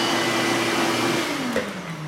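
A surface grinder spindle motor driven by a VFD runs with a steady loud whine, then its pitch drops as it slows down near the end, with no talk.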